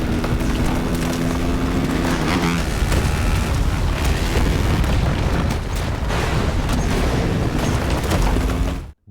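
A film scene has a bomb blowing up a mountain, with a sustained loud rumbling blast and debris roar that continues for several seconds before cutting off abruptly.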